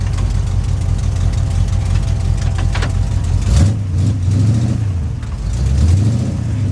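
A car engine drones steadily, then rises and falls in pitch as the manual transmission is shifted hard, with the revs climbing again after a short dip, close and loud with no voices.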